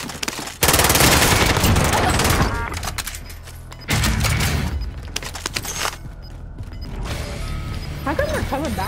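Gunfire in Call of Duty: Modern Warfare, with dense bursts of rapid shots and booms that come and go across the clip. Voices talk in between the bursts.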